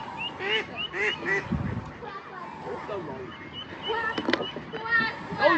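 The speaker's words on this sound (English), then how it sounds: "Quack, quack, quack." Ducks quack nearby at a park in short, scattered calls, mixed with a person talking outdoors.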